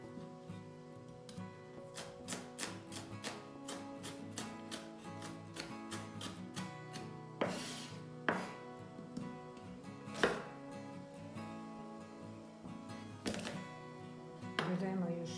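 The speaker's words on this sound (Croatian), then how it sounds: "Sad križamo luk." Onion chopped with a knife on a board for a potato pie, a quick run of crisp rhythmic cuts followed by slower, heavier chops, close and clear over a soft background tone.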